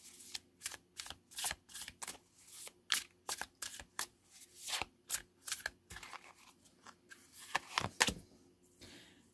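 Crisp, rapid riffling of a tarot deck being shuffled up close, in repeated snapping bursts throughout, with no talking.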